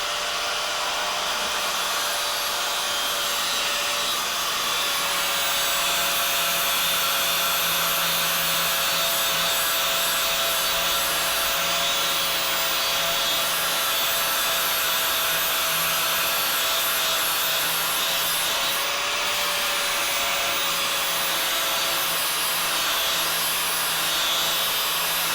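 A grinding disc cutting bevels on a sword blade clamped over wood, a loud, steady, high-pitched whine holding unbroken for the whole stretch with no pauses or talk.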